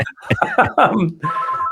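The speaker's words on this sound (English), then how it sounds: "my home phone is ringing" A home landline phone starts ringing with a bright, trilling tone right after a man's brief speech, close and clear.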